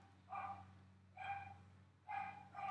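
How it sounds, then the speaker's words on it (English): A dog barks several times in the background, the sharp barks spaced about a second apart and fairly faint, with no talking. "Sorry if you hear barking,"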